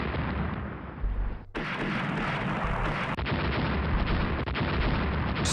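Heavy, continuous rumbling booms of naval artillery fire in the video game Rule the Waves roll together into a dense roar, with sharp cuts between bursts and a steady low thunder throughout.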